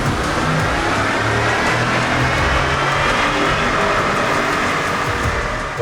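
Stock Chevy truck engine roars continuously at high load on a dyno, a loud, dense, steady drone that holds near full throttle throughout.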